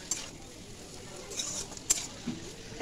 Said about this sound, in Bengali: এবার এগুলো ভালো করে মিশিয়ে নিলেই হলো।